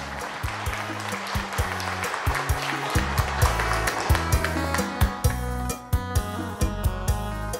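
Guests at a Vietnamese engagement ceremony break into steady, moderately loud applause that lasts several seconds, mixed with a thumping bass line and background music.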